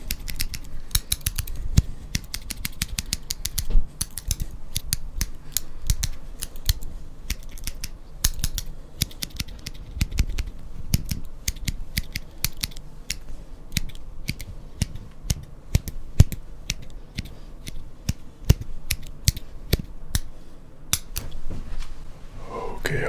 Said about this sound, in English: Okay, I say we counter that with some